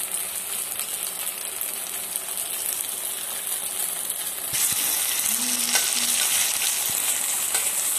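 Chhana, Bengali cottage cheese, sizzles steadily as it fries in a wok, a constant close crackle that swells a little louder partway through, with a few light scraping stirs.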